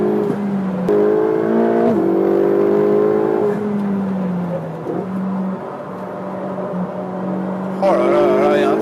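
A 670-horsepower turbocharged car engine revs hard toward 8000 rpm, its loud rising and falling whine climbing in steps with brief shift dips, close and dominant throughout with a final sharp upward rev.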